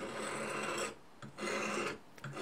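Knife blade being sharpened on a Fallkniven DC3 pocket sharpener, two steady raspy strokes of close, even scraping with a short pause between them, no talk.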